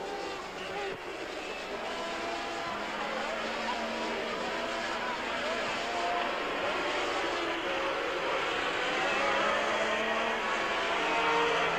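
Formula One cars at the 1981 German Grand Prix roar past in the distance as a continuous, fairly faint racing drone with rising and falling engine tones.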